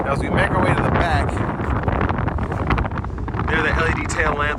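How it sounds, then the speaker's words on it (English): A strong wind gust buffets the microphone outdoors beside a 2024 BMW i5 M60, a loud continuous rumbling roar with a person talking over it. "There's that wind gust I was talking about, it's insane"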